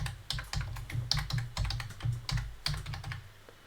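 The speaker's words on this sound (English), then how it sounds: "I'm just going to put my password in here," Close, quiet typing on a computer keyboard as a password is entered, a quick irregular run of soft key clicks with no one speaking.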